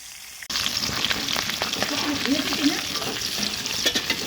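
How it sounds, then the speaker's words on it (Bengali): Fish pieces fry in hot oil in a pan, a dense crackling sizzle that starts abruptly and stays steady and close, with scraping and stirring clatter as the pieces are turned. "এইভাবে মাছগুলো প্রথম দুই মিনিট পরে একবার উল্টে তারপরে এক মিনিট পরে পরে উল্টে পাল্টে দুই দিকে লালচে কালার করে ভেজে নেব"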